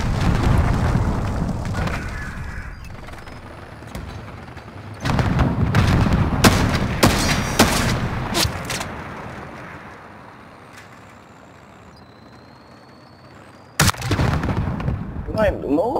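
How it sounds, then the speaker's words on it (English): Cruise missile strike explosions in a Call of Duty Modern Warfare ground war match, loud booms and sharp blasts, some close, then quieter rumble and a final sudden impact, with voices talking in between. "Enemy cruise missile incoming"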